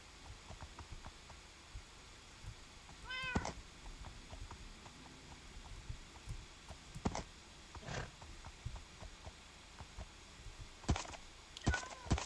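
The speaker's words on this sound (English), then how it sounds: "that's a cat." A cat meows in Minecraft, a short rising cry heard once, then brief clicks and thumps from gameplay over a steady low background with no talk.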